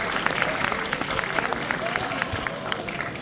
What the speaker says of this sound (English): Let's give Drew McDermott a big round of applause.